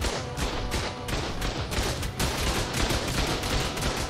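Rapid bursts of turret gunfire in the ARK survival game, a dense, continuous fusillade of loud, closely spaced shots with no speech.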